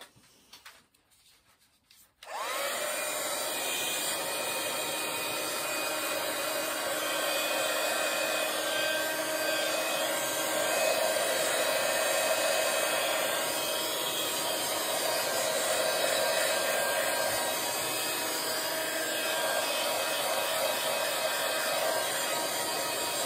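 A hair dryer drying paint on a paper art journal page switches on after a brief quiet moment and blows steadily, a loud continuous whooshing hum that holds for the rest of the clip.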